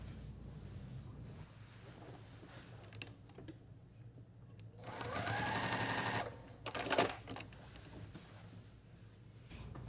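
A sewing machine restitches a quilt seam in two bursts of steady mechanical whirring, a longer run followed by a short one, against a low background hum.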